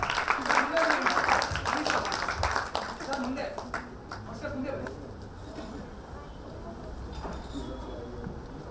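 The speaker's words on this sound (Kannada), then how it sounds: "ಬರ್ಲಿ ಚಪ್ಪಾಳೆ." An audience at an award event in Karnataka applauds, loud clapping at first that fades to scattered claps, with speech and crowd murmur around it.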